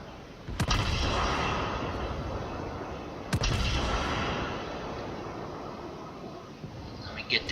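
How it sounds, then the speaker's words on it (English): Secondary guns aboard the battleship Wyoming fire in the naval combat game World of Warships, two sharp booming shots several seconds apart ringing over a steady background rumble of battle. "My secondaries are opening up."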